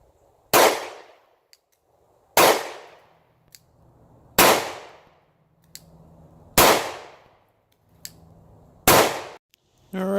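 Five loud, sharp shots from a Glock 27 .40 caliber pistol fired at a target, evenly spaced about two seconds apart, each followed by a short ringing decay, with quiet pauses between.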